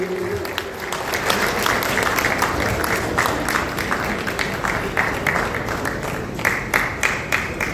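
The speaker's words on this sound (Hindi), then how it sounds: "जोरदार ताली के साथ स्वागत करेंगे। आपकी ताली रुकनी नहीं चाहिए।" Loud, sustained applause from an audience at an event in Thailand as a team is welcomed onto the stage, dense clapping continuing throughout with scattered sharper claps standing out near the end.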